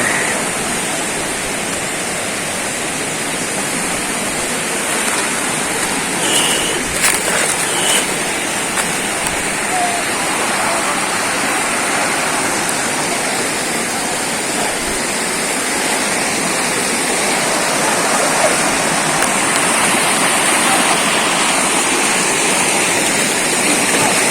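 A river rushes over rocks near a waterfall in General Nakar, Quezon, giving a loud, constant broadband roar that stays steady the whole time with no one speaking.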